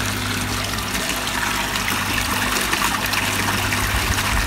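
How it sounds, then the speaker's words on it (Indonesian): A water pump runs steadily, pushing water into a fish pond filter chamber for tilapia farming, with continuous splashing and trickling over a low mechanical hum, fairly loud and close with no talk. "mari kita coba untuk nyalakan pompanya yang ada di sini"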